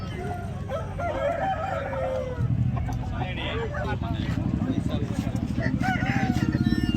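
Roosters crowing at a busy country chicken market in Nallapadu, Guntur: one long crow rises over the crowd, then more crows follow, amid clucking, chatter of people talking and a motorcycle idling nearby.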